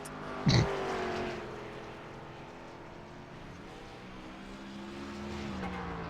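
A race car engine in a racing video game drones at a steady pitch with a quiet, even mechanical tone, and the engine pitch shifts gradually after a brief louder burst near the start.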